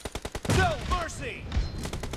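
Rapid AKM gunfire in a video game: a fast burst of evenly spaced shots rattles out, then a character's voice cuts in over continued scattered firing that resumes in another quick burst at the end.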